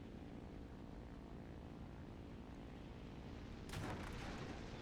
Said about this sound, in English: Machine gun fire, but I got hit.